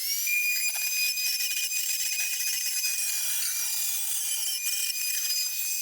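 A high, steady whine of a power tool cutting a hole in wood runs continuously, close and fairly loud, with a rough rasping texture and no voices.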